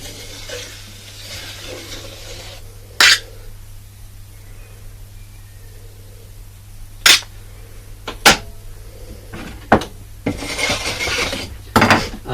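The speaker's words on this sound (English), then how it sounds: "And this one you just give it a little scrape along like that." Plaster being scraped along a wall with a trowel edge, a soft continuous rasping with a few sharp louder scrapes and knocks scattered through, close by with no talk.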